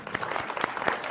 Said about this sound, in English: give yourself a round of applause for being here and being present in this moment